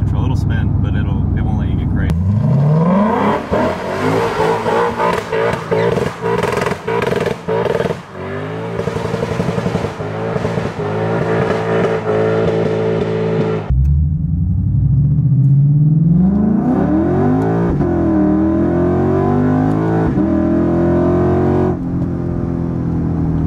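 A modified Lexus ISF accelerates hard from a stop, the engine climbing in rising revs through gears with brief shift breaks, loud and close from inside the car, with people talking over it.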